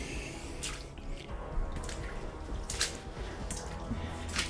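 Water drips in a flooded basement near a drain, a few faint, separate drips over a low, continuous background wash.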